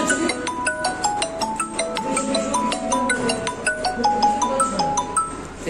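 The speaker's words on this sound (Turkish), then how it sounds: "Telefon çalıyor abi. Telefon çalıyor." A phone ringing in a repair-shop setting, a bright repeating melodic ringtone with short tonal notes playing continuously and fairly loud, with faint low background noise beneath.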